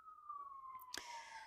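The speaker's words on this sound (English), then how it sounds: "Usually there's not this many sirens." A faint emergency vehicle siren wails in the distance outside, its tone sliding slowly downward, with a couple of brief nearby rustles and clicks.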